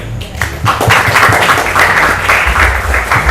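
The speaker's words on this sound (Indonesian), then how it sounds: "Beri tepuk tangan." Applause from students at an open Islamic boarding school exam on reading a classical text, sustained clapping throughout under a crowd murmur, fairly loud and steady.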